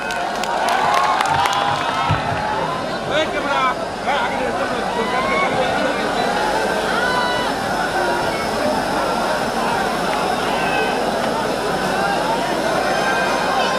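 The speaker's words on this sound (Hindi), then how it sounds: "एक जोरदार ताली बजाइए आप सब।" A large open-air crowd at a Bhojpuri stage show in Nepal cheers and applauds loudly and continuously, with shouts and whistles rising over a dense, steady roar of voices.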